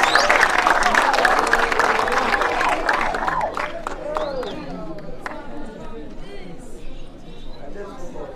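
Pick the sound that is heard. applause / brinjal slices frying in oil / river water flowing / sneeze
applause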